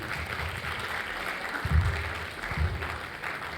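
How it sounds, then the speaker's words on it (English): Audience applause at a school annual day function, a steady wash of clapping heard at moderate distance, fairly even in level with a couple of low thumps partway through. "Can we have a huge round of applause, everybody?"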